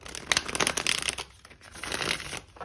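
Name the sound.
shuffling a tarot card deck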